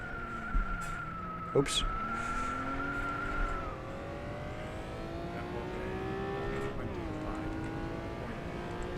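Honda NSX racing car on a test track in rFactor 2, its engine note rising and falling as it slides into a corner, with a brief skid-like burst; someone talks over the engine throughout.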